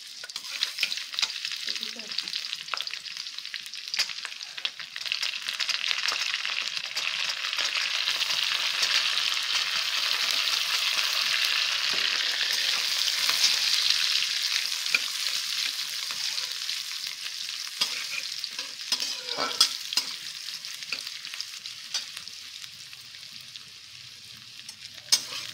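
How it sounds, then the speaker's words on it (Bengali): Chopped garlic and ginger fry in hot oil for rice, a steady bright sizzle that swells and eases over about half a minute, with occasional stirring clicks and no talk. "এরপর ভাতের জন্য তেল দিয়ে রসুন কুচি আর আদা কুচিটা দিয়ে দেওয়া হচ্ছে।"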